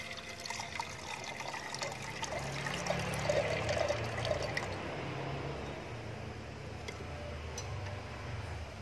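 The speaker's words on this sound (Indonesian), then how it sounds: "Siram pakai air panas sampai bening, sampai warna birunya hilang." Hot water poured steadily over a plastic monitor-screen sheet to rinse off its blue coating, a continuous liquid splashing and trickling with scattered faint drips, fairly even in loudness throughout.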